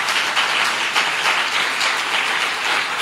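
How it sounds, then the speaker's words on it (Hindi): A church congregation applauds during a Hindi sermon, dense steady clapping that fills the whole stretch evenly without any talking on top. "तो ताली दे दो ना मेरे प्रभु को।"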